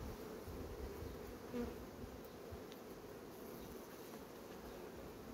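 Honey bees buzz steadily throughout a beehive inspection, a dense continuous hum close by with no talk over it.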